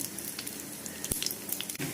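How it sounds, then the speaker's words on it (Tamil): Steady crackling sizzle of mustard seeds and urad dal frying in hot ghee, with small pops scattered throughout and no voices. "கடுகு உளுந்து போடுறேன்"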